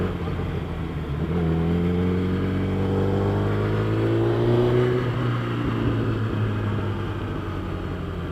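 A 2012 Kawasaki Ninja ZX10R with 57,000 km on it drones steadily under a rider, its engine note rising and falling slightly through wind noise while someone talks over it.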